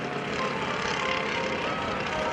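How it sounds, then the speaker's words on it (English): A propeller aerobatic plane flying at the 2012 NAS Oceana Airshow gives off a steady, loud engine drone, continuous and broadband throughout, with no break or speech over it. "Listen to the engine."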